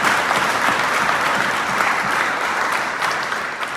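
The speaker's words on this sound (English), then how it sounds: "A big applause again for that." An audience at a mayoral inauguration in the Royal Borough of Greenwich, London, gives sustained, full applause, many hands clapping steadily and then tapering slightly toward the end.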